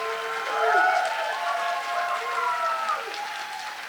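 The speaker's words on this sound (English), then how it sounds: "And another round of applause for all the candidates here tonight." An audience at an all-candidates federal election forum gives a sustained round of applause, with a voice talking over the clapping as it gradually fades.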